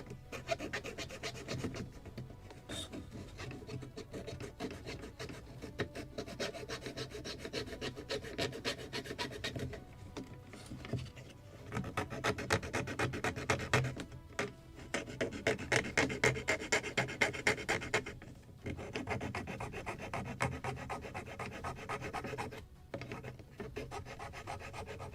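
A hand file rasps against wood on the skeleton of a Midwest Muscongus Bay Lobster Smack model boat kit, producing continuous close-up scraping strokes that rise and fall in intensity with brief pauses.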